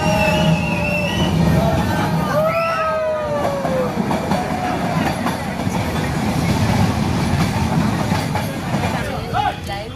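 The small Ooty toy train rumbles and clatters along the rails on the Udagamandalam to Ketti route, with a brief high squeal early on, voices faintly audible under the steady noise.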